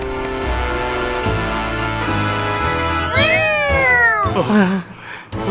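A cat gives a couple of drawn-out, wavering meows over a steady background sound, then a short, higher yowl follows near the end.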